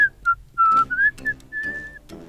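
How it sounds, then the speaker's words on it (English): A person whistles a short tune up close, a few clear notes with brief pauses between them. "I hear a zookeeper whistling in my ear."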